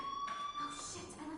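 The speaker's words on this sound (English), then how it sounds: "Hey, do you hear that fire alarm?" A fire alarm rings in the video game Life is Strange, a steady electronic tone under game ambience with a voice speaking over part of it.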